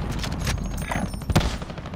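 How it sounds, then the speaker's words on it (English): In Call of Duty: Warzone, an AUG rifle fires in short controlled bursts, loud and close, the gunshots blending into a dense rattling layer with a stronger crack near the end. "I have to sort of tap fire."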